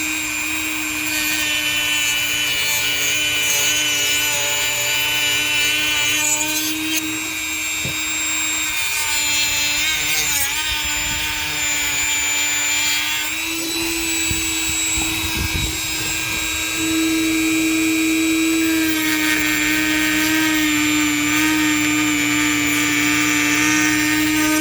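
A power cutting tool runs continuously on a plastic car part during a climate control swap, giving a steady whining drone with a shifting pitch and grinding rubs as it bites into the material.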